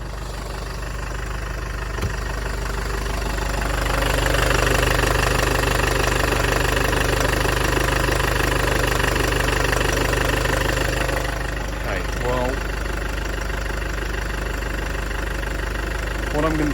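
A Land Rover Freelander 2 engine idles steadily after a crankshaft position sensor replacement, a continuous close mechanical hum with a slight rise in level midway and a brief clatter near the end. A voice talks over it.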